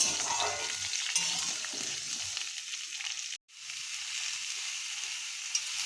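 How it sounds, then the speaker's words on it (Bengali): Vegetables frying lightly in a pan give a steady close sizzle throughout, with a brief near-silent break midway before the crackle resumes, and no voices. "সবজিগুলো আমরা হালকা করে আগে ভেজে নেব।"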